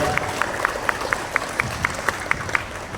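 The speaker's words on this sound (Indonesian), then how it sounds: "tepuk tangan buat Bapak dan Ibu berdua" Audience applause for the two school heads at a madrasa graduation send-off ceremony, a continuous crowd clapping with one sharp, evenly spaced clap standing out about every quarter second, over faint voices.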